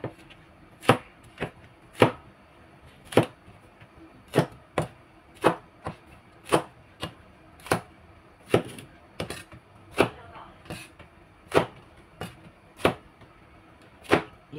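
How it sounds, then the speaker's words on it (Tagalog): Okra and eggplant being chopped on a cutting board for pakbet with shrimp and ground pork: a steady series of sharp knife chops, close and clear, repeating roughly once a second with no talk. "So ang okra natin ay hatiin natin"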